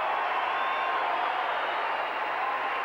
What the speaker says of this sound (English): this really cool crowd noise that I got from Rio's 25K kit